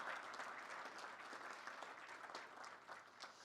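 Steady applause from an audience at a government coronavirus vaccine briefing, honoring state governors, a dense patter of clapping held at an even level for the whole stretch.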